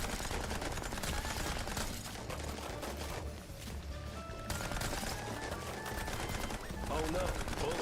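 Video game gunfire rattles in dense, rapid automatic bursts, loud and continuous with a short lull midway, blended with other game sounds.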